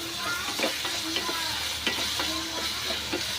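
Repeated soft squelching and scraping as tomatoes for pav bhaji are mashed against a pan, with a faint sizzle underneath and no talking.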